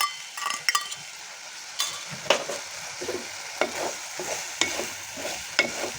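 Egg and onion greens are stir-fried in a pan with a soft, steady sizzle. A utensil scrapes and clinks against the pan in a regular rhythm throughout.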